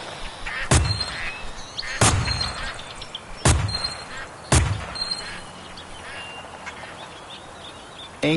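Four loud, sharp shotgun blasts fire at a steady pace of roughly one every 1.4 seconds during a duck hunt, each one booming over an outdoor background of quacking ducks.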